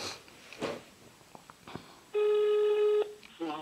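A telephone ring tone sounds once for about a second during a phone call, loud and clear, after some faint murmured speech and clicks, with a further tone pattern just after.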